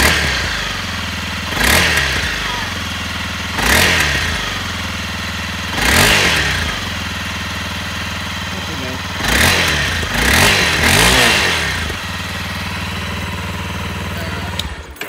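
A Honda CRF-250L motorcycle with its stock muffler revs repeatedly from idle, five or six short throttle blips rising and falling over a steady nearby idle, fairly quiet and muffled.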